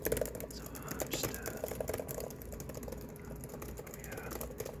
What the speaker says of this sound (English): Me typing on my keyboard.